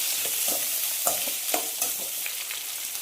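Long-sliced large onions sautéing in a pan for a vegetable kurma, giving a steady close sizzle with light, irregular stirring scrapes throughout and no voices.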